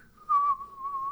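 A person on a morning show whistles a short, clear tune, a single sustained melodic line that swells briefly louder in the middle before settling back, heard alone.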